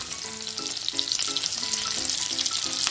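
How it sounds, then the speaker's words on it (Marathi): Chopped tomatoes drop into onions frying in oil for potato masala rice, giving a steady close sizzle with a few soft stirring scrapes and no voices. "आता मी टोमॅटो टाकते त्याच्यामध्ये।"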